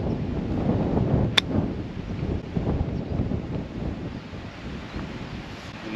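Wind gusting across an outdoor golf course on a par 3 hole, a steady low rumble buffeting the microphone with one brief sharp click partway through, no talk.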